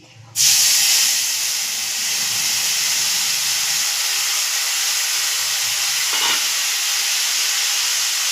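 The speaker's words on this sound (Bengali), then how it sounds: "তেঁতুলের জলটা দিয়ে দিচ্ছি।" Tamarind water poured into hot oil tempered with mustard seeds and dried red chillies bursts into a loud, sudden sizzle that settles into a steady, close hiss lasting several seconds, with no talking.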